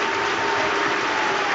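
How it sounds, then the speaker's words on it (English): Leeds United supporters applauding a substitution late in a match against Norwich City, a steady dense wash of clapping from a large stadium crowd, continuous and fairly loud throughout. "another round of applause from the passionate Leeds support as Liam Cooper gets ready"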